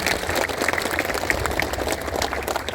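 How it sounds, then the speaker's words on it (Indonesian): Applause from a school flag-ceremony crowd for the Paskibra flag-raising troop at SMKS Dharma Pertiwi, a steady, dense spread of clapping sustained throughout at moderate distance. "Kita tepuk tangan dulu untuk Paskibra dulu."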